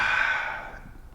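A single long exhale during meditation, a breathy airy rush that starts strong and gradually fades away over about a second, close and alone.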